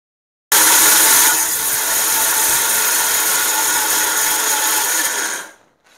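A kitchen mixer grinder whirs loudly as it coarsely grinds rasam powder spices. The motor starts abruptly, runs at a steady high whine for about five seconds, then cuts off and spins down, with no speech.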